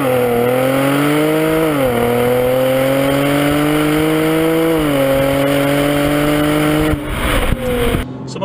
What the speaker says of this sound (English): If we're just going to grab a paddle and go into manual.